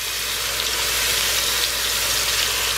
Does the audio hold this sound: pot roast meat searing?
yes